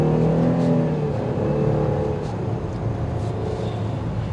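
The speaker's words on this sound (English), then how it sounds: "And to show you what I mean by that is just push the gas" A 2023 Chevrolet Blazer RS engine pulls under acceleration with a steady, fairly loud droning hum from inside the cabin, easing slightly partway through, with no talking.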